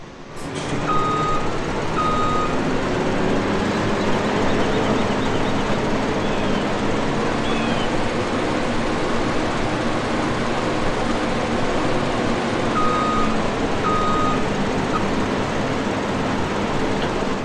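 A truck reversing in a farming video game beeps in paired, evenly spaced tones over a steady, loud engine drone that runs without a break.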